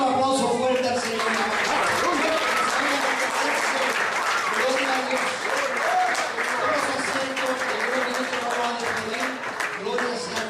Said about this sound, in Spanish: Vamos a darle un aplauso fuerte al Señor